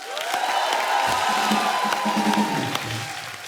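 A studio audience at a comedy show applauds and cheers, a loud continuous wash of clapping with whoops and shouts rising over the crowd.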